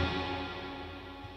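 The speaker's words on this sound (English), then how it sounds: "So it's quite a lot of reverb." Overdriven electric guitar tone through a Line 6 HX Stomp with heavy reverb at a high mix, a sustained distorted chord washing out into a long, steady reverb tail.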